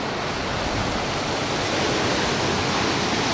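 Sea water crashes against big rocks at Fort Aguada beach in Goa, a continuous loud roar of surf and spray with no break and no talk.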